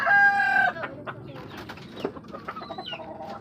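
Pet chickens cluck at feeding time, a rooster-like crow opening before a busy run of short, close clucks and pecking noises.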